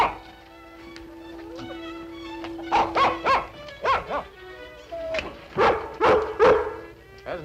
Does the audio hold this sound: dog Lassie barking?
yes